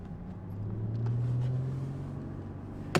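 Inside the cabin of a Mercedes C300 W204 fitted with universal mufflers and an X-pipe, driven with the exhaust valves closed: a quiet, steady low engine hum with a slight swell, and a sharp click near the end.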